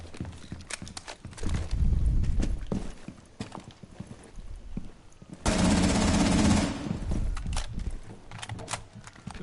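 Video game gunfire from a rifle with heavy recoil, rapid bursts of close, loud shots with clattering footsteps and action between them, including a dense sustained volley near the middle.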